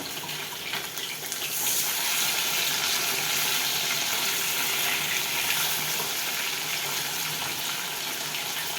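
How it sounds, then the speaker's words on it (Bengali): Fish frying in a hot pan while being turned over, a loud, steady broadband sizzle that swells after the first second and holds evenly throughout, with no voices. "চলো মাছগুলো উল্টিয়ে দিই"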